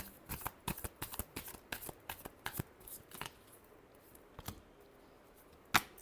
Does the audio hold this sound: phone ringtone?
no